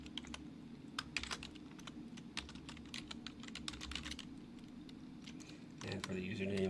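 Rapid keystrokes on a computer keyboard while entering a primary host and database details into a MongoDB connection manager in Visual Studio, steady clicking throughout under quiet room tone with a louder thump near the end.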